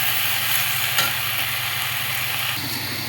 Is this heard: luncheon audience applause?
no